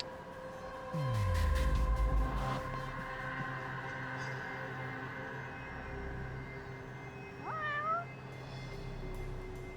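A cat in the game Judgment gives a loud, falling meow early on, then a second shorter meow later, set against a steady low hum of background ambience.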